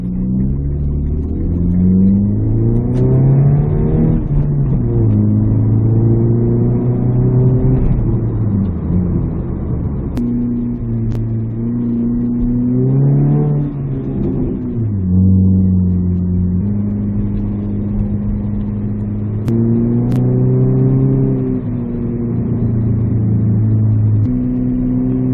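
Steady, loud engine drone from inside a car out on the road, rising and falling through repeated acceleration runs and gear changes over a constant rumble, with no talking.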